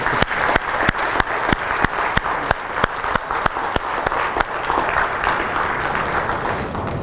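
A church congregation at a Korean church in Manila applauds loudly, with sharp, evenly spaced claps standing out above a continuous wash of clapping.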